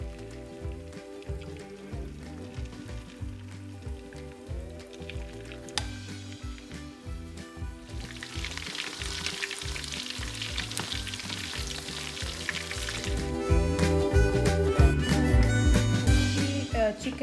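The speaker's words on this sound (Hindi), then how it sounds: "अब ऑयल में मैं चिकन डाल के इसको हम फ्राई कर लेंगे।" Chicken frying in a generous amount of oil for a Manchurian curry, a steady crackling sizzle that swells louder and denser toward the end, with no talking over it.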